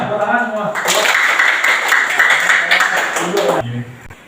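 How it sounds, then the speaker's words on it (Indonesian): Children in an elementary school classroom clapping hands together, a brief burst of rapid mixed claps lasting a few seconds between stretches of a voice. "Ya, tepuk tangan semua."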